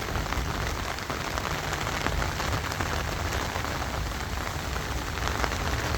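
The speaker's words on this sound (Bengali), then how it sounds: "একদম মুষলধারে টানা বৃষ্টি হচ্ছে।" Heavy, continuous downpour falling on a garden of climbing gourd plants during a morning storm, a dense, steady roar of rain close by with no talking.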